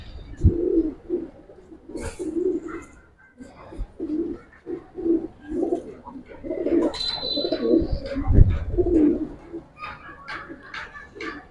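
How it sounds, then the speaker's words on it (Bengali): Giribaz pigeons, several pairs kept together, coo again and again in rhythmic, throaty pulses, close and fairly loud, with occasional higher chirps and clicks between the calls. "তিন পেয়ার কবুতর অলমোস্ট সেম এবং সুন্দর"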